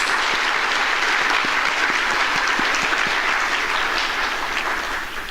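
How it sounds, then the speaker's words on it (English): A warm round of applause from the audience at a music school's annual students' concert, steady dense clapping filling the room for about five seconds before tapering slightly at the end. "I want us to give them a very warm round of applause"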